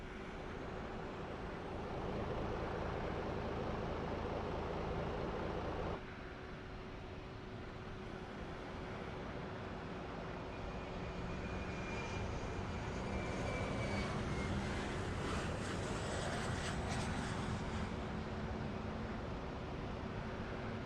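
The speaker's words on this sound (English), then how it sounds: "Engine number 2 starting." An Airbus A321neo's number 2 engine spools up during start in the ToLiss flight simulator, a steady broadband roar with a rising whine that holds loud and continuous throughout.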